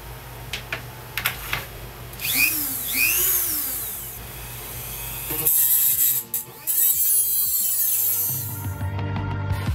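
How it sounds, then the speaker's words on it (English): A Dremel rotary tool trims the metal ends off screws, its high whine rising and falling in short bursts between scattered clicks and light handling noise. "now I've got a Dremel and I just have to go through and trim all of these metal ends to these screws"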